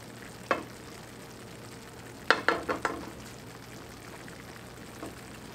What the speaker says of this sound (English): You just want to stir that around in there and let the cream cheese melt.